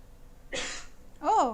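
A single sharp sneeze bursts out indoors, close and brief, followed a moment later by a short voiced exclamation from a person nearby.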